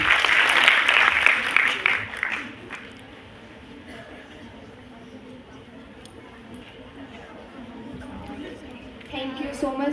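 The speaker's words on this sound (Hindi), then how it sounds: "इन सभी के लिए एक बार तालियां बजाइए" Applause from an audience at a college orientation and freshers' welcome, loud clapping at the start that fades into a murmuring crowd, with voices and a few scattered claps later.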